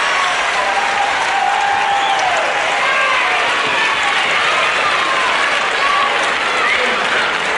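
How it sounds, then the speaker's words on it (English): Wrestling crowd at a match cheers and screams, with young women prominent, a dense, loud and continuous roar of applause and shrieks throughout. "delighted crowd, especially the young ladies there, standing up and screaming their delight as Steve Veidor gets the decision in the final round."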